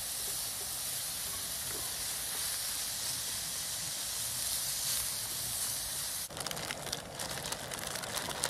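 Onions fry on a camp stove in an outdoor tarp camp, giving a loud, constant close hiss that turns to a busier crackling sizzle near the end, with no talking.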